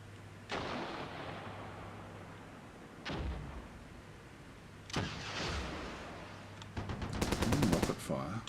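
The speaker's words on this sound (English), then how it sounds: "Rocket fire." Rocket fire in the wargame Armored Brigade II: three separate loud launches with roaring trails spaced a couple of seconds apart, followed by a rapid burst of clattering automatic gunfire near the end.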